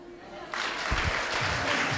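A church congregation bursts into loud applause and cheering partway through, the clapping building into a dense, sustained burst after a brief spoken moment.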